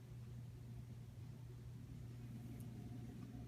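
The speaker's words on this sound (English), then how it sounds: "I think she hears the garbage truck." A garbage truck passes at a distance outside, heard as a low, steady engine rumble that stays faint and continuous throughout, with no voices.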